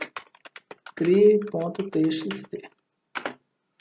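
Typing on a computer keyboard at a desk gives rapid, crisp key clicks close by, with someone talking over part of the typing.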